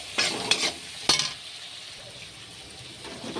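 Onion, tomato and cinnamon are sautéed in oil, with a soft continuous sizzle under a few bright scrapes and clinks of a spoon stirring against the pan early on.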